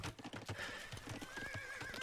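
A Hunnic horse in a strategy video game, hemmed in by walls, clops its hooves in quick rhythmic steps and gives a faint whinny, quiet and close.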